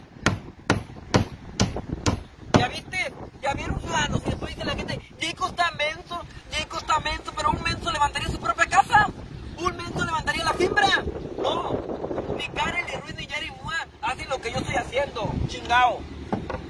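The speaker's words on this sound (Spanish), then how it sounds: "Se siente el viento bien fuerte" Strong wind buffets the microphone outdoors as a rumbling, gusty roar throughout, mixed with sharp hammer strikes driving nails, steady at first and then scattered, while people talk over it.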